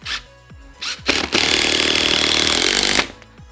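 Power drill driving screws into a wooden cat tree post, a few short whirring bursts followed by one long close high-pitched run of the motor that stops abruptly.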